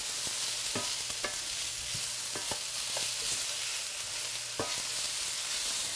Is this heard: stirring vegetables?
yes